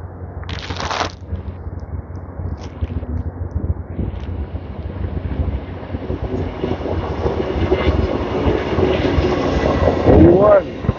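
An Amtrak Coast Starlight passenger train, Train 11 bound for Los Angeles, rumbles past outdoors in a loud continuous roar with rattling wheels, a brief horn-like tone near the end, and faint talk underneath.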